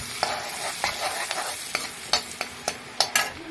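Pasta cooks in butter in a pan with capsicum, a soft continuous sizzle punctuated by sharp, irregular clacks and scrapes of a utensil stirring, close by with no talk.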